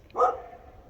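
A short, fairly loud single dog bark from below a tall pine, heard from high up the tree, followed by a faint fading tail and no talk.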